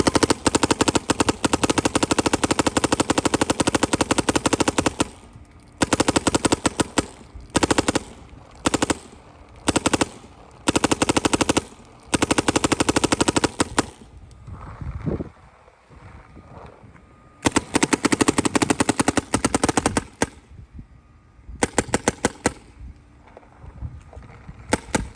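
MacDev XDR airsoft rifle firing on semi-auto, a dense run of loud, rapid shots in bursts separated by short pauses, close to the microphone with wind noise between strings.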